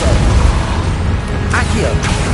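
Depulso force spell cast in the video game Hogwarts Legacy, a dull booming burst over dense ongoing game noise and music, with brief tonal whooshes near the end.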